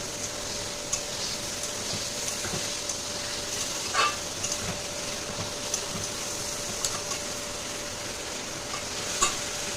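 A spice paste of ground spices is stirred in a pan for bitter gourd with hilsa fish head, pumpkin and potato. Soft, irregular scraping strokes run over a low, steady sizzle, with a few sharper clicks of the spoon.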